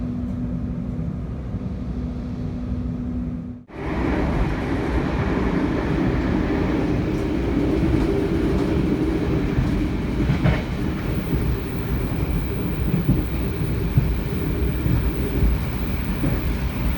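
An executive-class KA Sancaka passenger train runs at night between Surabaya and Yogyakarta, a loud continuous rumble with rail clatter heard from inside the carriage, a brief dip near the start, then a steady roar.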